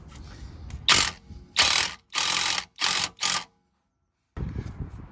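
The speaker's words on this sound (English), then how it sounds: "I've got the gun ready with the Torx bit in," An impact gun fitted with an E18 Torx bit loosens a car's rear shock bolt in five close, loud rattling bursts. The first four come in quick succession and the last stands apart after a pause.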